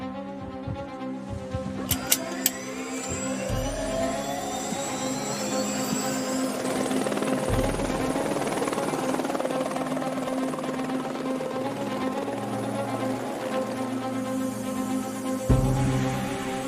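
Helicopter lifting off over the Alps, its turbine whine rising and rotor thrum building into a loud, continuous close roar with sharp high tones climbing early on.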